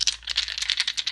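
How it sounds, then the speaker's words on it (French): Small dice rattle and clatter on a surface in a quick burst of light, dense clicks, close and fairly faint. "Je vous lance des petits dés."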